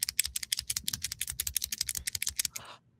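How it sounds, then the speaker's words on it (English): Pens clicked over and over in a fast, steady run of sharp ticks, close and loud, played alone as a wake-up alarm with no talk. "a woman who wakes up to an alarm of pens just clicking like this"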